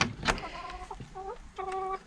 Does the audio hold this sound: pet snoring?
no